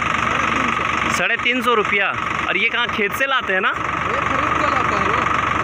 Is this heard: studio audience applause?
no